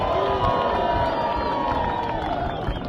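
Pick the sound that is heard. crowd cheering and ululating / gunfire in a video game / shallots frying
crowd cheering and ululating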